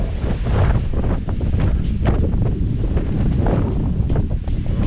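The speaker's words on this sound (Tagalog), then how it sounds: "sobra mahangin talaga dito" Strong wind buffets the microphone in loud, uneven gusts that rumble continuously, with no voices present.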